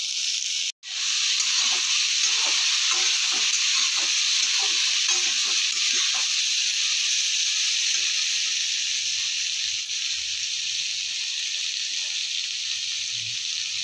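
Amla pickle cooks in a covered pan with a steady, loud sizzling hiss that runs unbroken after a brief lid clatter near the start.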